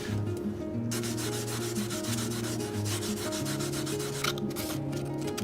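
Fine grit sandpaper refining the brim edge of a 70-year-old heirloom hat, a steady back-and-forth rubbing rasp that continues throughout, with sustained background music tones underneath.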